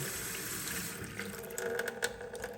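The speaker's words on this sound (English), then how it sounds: "so I've got one of these automatic faucets" Water runs from a Moen touchless automatic kitchen faucet into a sink, a steady close hiss of flow with a few small splashes near the end, no voices.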